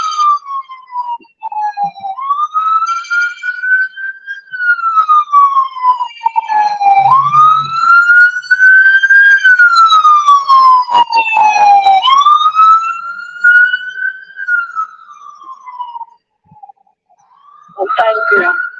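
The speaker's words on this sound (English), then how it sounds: "I'm going to stop for a second because I see an ambulance coming." An ambulance siren wails close by, rising and falling in long sweeping cycles as it passes, loud and clear over a quiet background.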